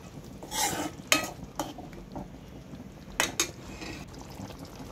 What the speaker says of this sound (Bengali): দিয়ে হালকা পানি দিয়ে আমি এটা কষিয়ে নেব।